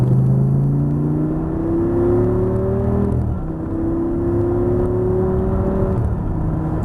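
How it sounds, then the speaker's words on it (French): On a race track, a car's engine revs upward in long rising sweeps with a short break midway, then climbs again, loud and continuous, alone with no voices. "Et on accélère."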